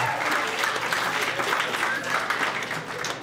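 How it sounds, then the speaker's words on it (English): A studio audience claps for contestants on a stage show, a steady, fairly loud wash of applause that holds for a few seconds without letting up. "Were they clapping for me? Yes, they were."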